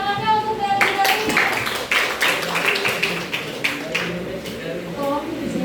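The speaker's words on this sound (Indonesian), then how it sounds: "Beri tepuk tangannya untuk teori Darwin" Classroom audience at a high school evolution debate clapping, a scattered burst of hand claps mixed with voices and chatter that continues for several seconds.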